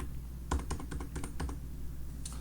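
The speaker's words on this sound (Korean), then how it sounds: "키보드로 커서로 방향키로 이렇게 내리거나 올려도 볼 수가 있습니다." Arrow keys on a computer keyboard tapped about eight times in a quick, uneven run, close and clear over a steady low hum.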